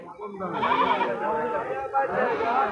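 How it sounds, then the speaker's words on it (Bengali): Young female goats bleat repeatedly at a crowded Bangladeshi livestock market, wavering cries close by overlapping one another, while someone talks over them. "এটা মেয়ে ছাগল আর কি দুইটা"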